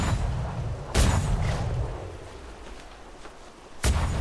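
Ship's chaser cannons firing in a naval video game: two loud, heavy booms about three seconds apart, each with a sharp attack and rumbling decay, over steady low background noise.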